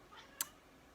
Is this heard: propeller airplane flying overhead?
no